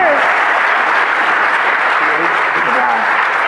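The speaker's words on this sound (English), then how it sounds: "Round of applause for our first time speaker" A roomful of DEF CON 22 conference attendees clapping for a first-time speaker, loud and close, a dense continuous patter of hands with faint voices mixed underneath.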